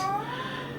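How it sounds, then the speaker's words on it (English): A cat gives a single short, close meow in a home kitchen while begging for cheese. The clip is brief, with a quiet background and no talking. "Please excuse my cat."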